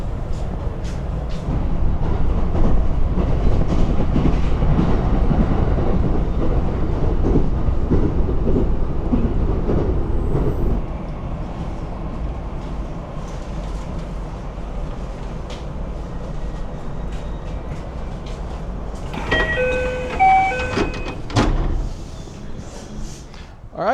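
A train on the Man-yō Mahoroba line in Nara runs with a steady interior rumble and faint rail clicks. The rumble eases as it slows, and brief chimes and tones sound near the end.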